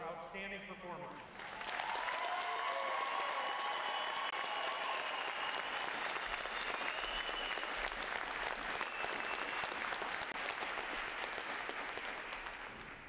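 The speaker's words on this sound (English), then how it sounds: "applause for their outstanding performances." Sustained audience applause at a U.S. Navy Recruit Training Command graduation ceremony, a dense wash of clapping that swells after a brief opening and holds steady and loud before tapering at the end.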